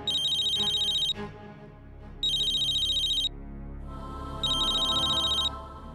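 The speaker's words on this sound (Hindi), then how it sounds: "हमार ख्याल से एक बार तू प्रज्ञा के फिर से फोन लगावा" A telephone rings in three bursts of electronic trilling, each about a second long and separated by short pauses, loud and near, with low background sound between rings.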